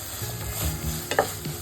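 Ridge gourd and moong dal curry sizzles softly in a pan while a spoon stirs it in a few short scrapes, one brief clack standing out near the end.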